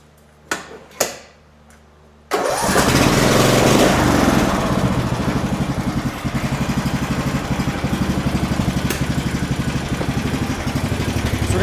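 After a few pull-cord tugs, a small engine running without an air filter fires up and settles into a loud, steady high-pitched buzz at close range, like a lawn mower engine.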